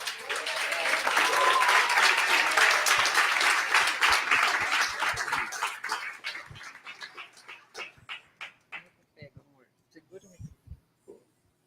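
A church congregation applauds Jesus at a baby's dedication, starting as loud dense clapping, then thinning into scattered separate claps that fade out, with a few voices calling out.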